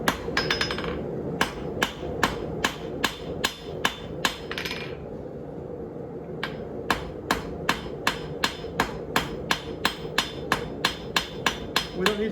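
Steady hammer blows ring out on forged steel, flattening an area of a marlin spike, about two per second, sharp and close, with a brief pause partway through before the striking resumes.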